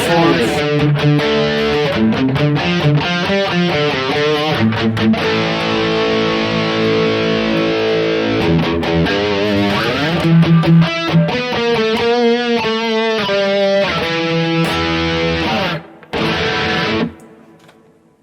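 An electric guitar with heavy distortion from a BOSS GT-1000 effects processor plays chords and sustained notes, loud and gritty, before cutting out near the end.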